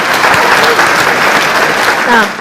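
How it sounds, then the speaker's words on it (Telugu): Two people clap hands on a comedy show set, a quick run of brisk claps with voices talking over them. "పాట చెప్పబోయే ముందు ఇద్దరు నాకు చప్పట్లు కొట్టండి"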